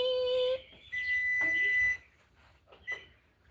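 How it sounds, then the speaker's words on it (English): A kitchen timer beeps as sourdough finishes baking, a few clear electronic tones near the start followed by quieter room noise and a faint voice. "Beep."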